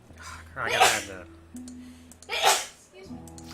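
A single sharp human sneeze bursts out loudly and close, followed moments later by a second similar burst, with low background hum from a home streaming setup between them.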